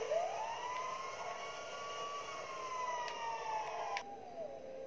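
Fire truck sirens in the video game GTA 5 wail in long rising and falling sweeps, steady and moderately loud, with a couple of short sharp clicks near the end.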